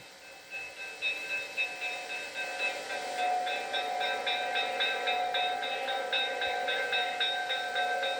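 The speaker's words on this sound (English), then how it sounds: "eastbound train number 52 pulls into the station" An eastbound Pennsylvania Railroad passenger train rolls into a station with rhythmic clacking and a high metallic squeal of wheels, moderately loud and sustained.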